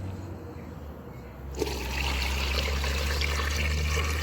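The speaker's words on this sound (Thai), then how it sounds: "เทน้ำเกลือใส่ลงไปในไข่เลย" Salt brine pours into a container of eggs, making a steady close-up splashing and gushing stream of water that starts abruptly after a quiet moment and continues evenly to the end.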